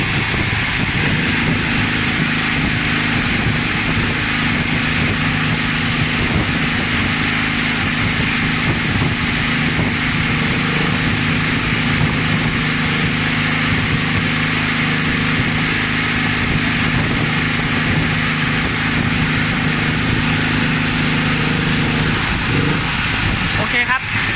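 A TAKARA TMV-4000 3 kW gasohol generator runs steadily while powering a 250-amp NASA electric welder using 4 mm rods, giving a loud, constant engine drone with a buzzy hum that holds for the whole stretch.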